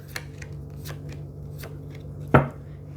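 Tarot cards being shuffled and pulled from the deck, a few light riffling flicks followed by one sharp snap of cards, close and quiet over a low hum.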